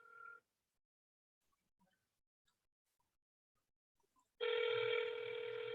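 A telephone rings on a conference call during a board meeting: near-silence, then a loud, sustained electronic ring bursts in near the end, with a short tone at the very start.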